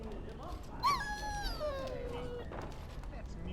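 A dog whimpers in Dragon Age: Origins, a high wavering whine rising and falling for about a second, heard over a steady game background with a voice speaking.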